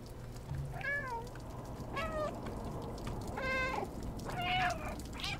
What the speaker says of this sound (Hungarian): Ú, de szomorúan nyávog.